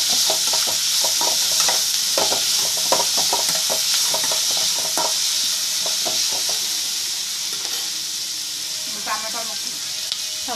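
Onions frying in oil in a pan with salt and turmeric, a steady bright sizzle under repeated rhythmic scrapes of a spoon stirring through them, the stirring easing off toward the end.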